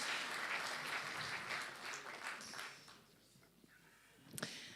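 An audience at a colloquium applauds, with a fairly faint, dense clatter of clapping that gradually thins and fades over a few seconds.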